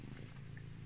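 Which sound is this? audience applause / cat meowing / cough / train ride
cat meowing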